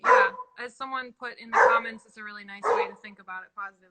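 A pet dog at home sounds off with a few sharp barks to alert that someone has arrived, mixed in under a person talking steadily nearby.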